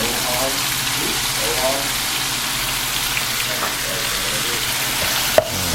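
Ground pork seasoned with salt and pepper frying in a pan, a loud steady sizzling hiss that fills the whole stretch, with a sharp utensil knock near the end.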